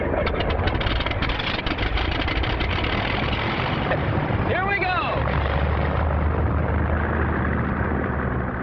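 A vintage barnstorming airplane engine drones steadily and loudly throughout, with someone narrating over the constant roar.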